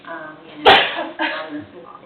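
A single loud sneeze bursts out among people talking in a meeting room, followed by continued conversation.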